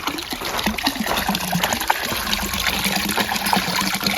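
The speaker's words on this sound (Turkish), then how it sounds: "Evet burası da köyümüzün çeşmesi. su içelim." Water from a village fountain in rural Bingöl, Turkey, trickles and splashes steadily into its basin, a continuous close babbling stream with faint outdoor background.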